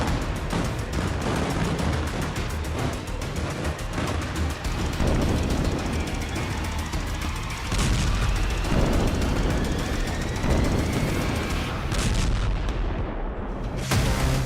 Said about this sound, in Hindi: नेतन्याहू ने हॉटलाइन पर ऑर्डर दिया और बेरूत में बारूद बरसने लगा।